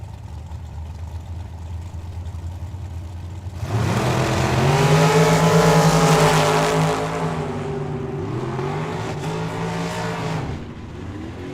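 A 2015 rear-engine dragster at a drag strip idles with a rough, steady rumble, then launches into a loud, sustained roaring run that fades back toward a lower drone.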